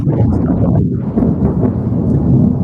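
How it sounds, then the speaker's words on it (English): Loud thunder rolls in a long, deep rumble that swells and fades in waves across the whole stretch, heavy and close, with no speech over it. "thunder."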